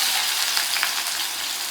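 Onions fry with mustard seeds, urad dal and cumin in hot oil, giving a bright, constant crackling sizzle that runs unbroken and fairly close.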